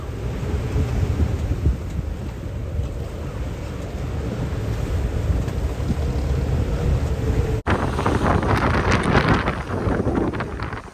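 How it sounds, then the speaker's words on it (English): Strong wind in the 20-knot range and 10 to 12 foot waves at sea near Venice, a continuous roar of gusts buffeting the microphone over crashing water, loud and unbroken except for one brief cut. "the wind had died off, down to 15 knots for a little bit, but now it's back up to the 20s"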